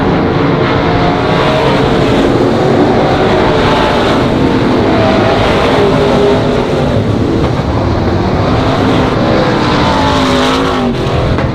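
Race cars roar continuously around the Monarch Motor Speedway oval, a loud, dense engine drone with passing pitch shifts throughout and no talk.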